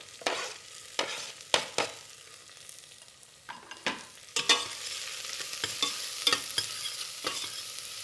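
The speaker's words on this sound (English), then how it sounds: "This initial sear or frying process is really important." Onions and garlic sizzle and fry in a pan, with repeated sharp scrapes and stirs of a utensil over a steady crackling hiss, close and clear with no talking.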